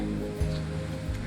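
Small waves wash onto a lake beach in Yellowstone National Park in a brief, steady, close-up rush of water.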